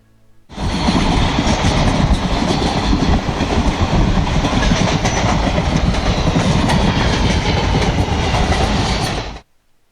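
Simulated train track sounds from the MSTS / Open Rails train simulator game, on an Indian Railways Palace on Wheels route: a loud, steady rumble of rolling wagons with rhythmic clickety-clack wheel beats that runs unbroken for about nine seconds.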